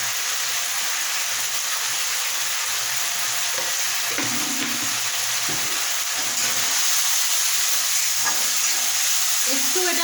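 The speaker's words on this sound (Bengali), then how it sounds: "পোস্তটা আমার একটু সামান্য ভাজা ভাজা হয়ে গেছে" Poppy seed paste fries in a pan with turmeric and a little sugar, giving a constant bright sizzle and hiss throughout, with occasional stirring scrapes and soft knocks close by.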